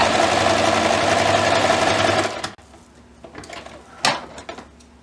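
A sewing machine stitches a quilted hot pad with a fast, steady mechanical whir for a couple of seconds, then stops, followed by a few quiet handling clicks and a brief fabric rustle.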